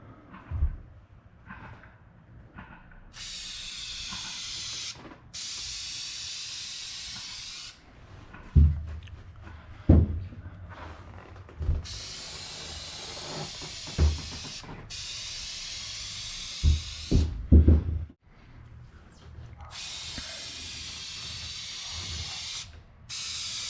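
A spray gun lays a first light clear coat over a car's damaged, peeling clear coat in several long steady hissing passes, with pauses and clunky handling knocks between them.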